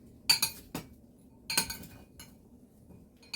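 Salad of celery and apple being tossed with utensils in a bowl that is too small, giving a few quiet clinking bursts spaced apart with near-silent gaps between them.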